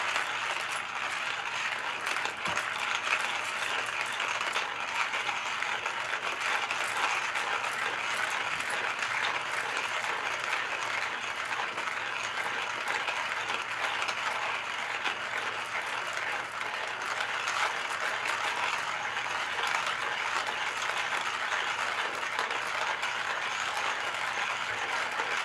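A Porlex Mini hand grinder crushes coffee beans with a continuous gritty, crackling grind that holds steady and close for the whole stretch, with no talking over it.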